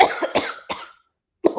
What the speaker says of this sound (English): the lady wearing the Oklahoma City Thunder shirt coughs up a freaking lung